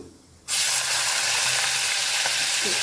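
Black cumin seeds (kalo jeere) tempering in hot oil, a loud, steady sizzle that bursts in abruptly after a brief quiet moment and holds at full strength.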